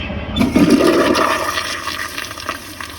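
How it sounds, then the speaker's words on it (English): An American Standard Cadet pressure-assist toilet with a Flushmate tank flushes forcefully with a sudden whoosh of rushing water that surges, then gradually tapers off into draining and trickling. "That wasn't really a partially clogged flush."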